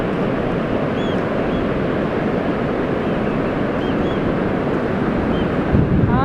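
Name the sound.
sea waves on Blackpool beach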